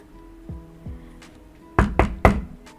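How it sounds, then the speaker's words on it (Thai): A door knock sound effect for an audio drama: two soft, spaced thuds followed by three loud, sharp raps in quick succession, with a faint trailing tap, clear and close with no speech. "เสียงเคาะประตูดังมา"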